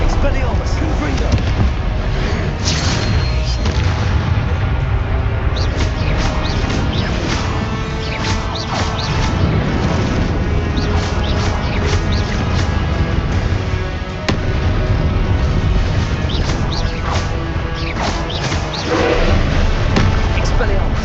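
Repeated Confringo spell blasts in the video game Hogwarts Legacy, a dense run of loud crashing bursts and whooshing impacts with busy game effects continuing without pause.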